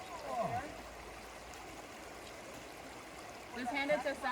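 Creek water on a stretch of the Appalachian Trail flows in a faint, steady wash, with voices talking softly nearby at the start and end.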